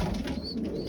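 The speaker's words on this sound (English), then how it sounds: "That bird is a very special pigeon." Pigeons coo in a racing loft, a low soft throaty coo rolling close by with a faint higher chirp overhead, brief and unaccompanied by talk.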